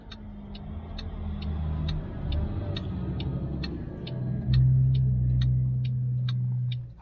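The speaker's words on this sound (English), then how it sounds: "the tow truck just got here, so doesn't look like one of those big giant tow trucks" A modest-sized three-axle tow truck pulls up near a broken-down vehicle and trailer, its engine rumbling low and steady and rising as it draws close, while a rhythmic ticking like a hazard flasher repeats throughout.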